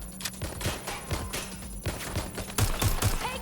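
Rapid bursts of automatic gunfire in the video game Watch Dogs: Legion, with repeated close shots and heavier thumps near the end, loud and continuous over a few seconds.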